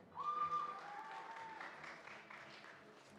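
An audience at a high school graduation ceremony claps steadily for a section of the graduating class, a broad, moderately distant wave of applause that swells early and then holds.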